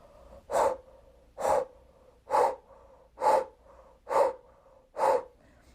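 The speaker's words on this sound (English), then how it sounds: "So the blow breath is done all through the mouth." Six forceful breaths puffed out through the mouth at an even, slow pace, each a sharp whooshing exhale with quiet gaps between.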